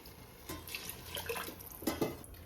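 Water runs and splashes steadily into a pot of spiced rice for egg pulao, with a few brighter gushes toward the end; no talking.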